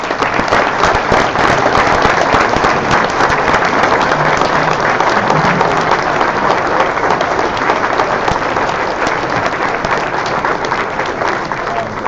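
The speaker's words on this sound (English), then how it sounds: "give our winter nominees and winners a nice round of applause" A large audience at a high school sports awards event gives winter-season nominees and winners a loud, sustained round of applause. The dense clapping is steady and close, lasting the whole stretch without a break.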